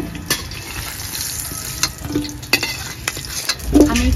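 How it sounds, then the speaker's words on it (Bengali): Meat sizzles and fries in a pan as it gets stirred for a spicy chicken curry, with a steady crackle and occasional scrapes and clinks, no talking. "আমি একটু মাংসটা হালকা করে ভেজে নেব।"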